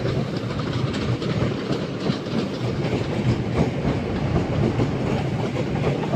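A Southeastern passenger train on the Hayes to London Charing Cross service pulls into Lewisham station, a loud, close, continuous rumble with rhythmic clickety-clack of wheels over rail joints and no voices.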